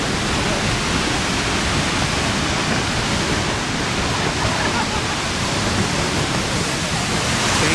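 Seljalandsfoss waterfall in Iceland, a loud, steady, broadband roar of falling water heard from close by, dense and unbroken throughout, in rain.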